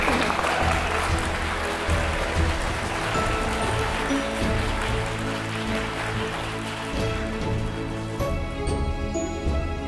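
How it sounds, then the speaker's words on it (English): Guests clapping at a wedding ceremony in Brisbane, a steady wash of many hands that carries on loud through the whole stretch, with a low hum and faint voices underneath. "Just give him a clap."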